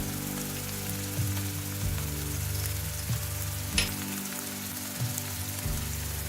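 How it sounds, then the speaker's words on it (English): Chopped ginger frying in a pan for a Schezwan paneer Maggi, giving a steady close sizzle with soft crackles and occasional stirring scrapes, no talking. "just make a space and just fry a bit and we'll toast it"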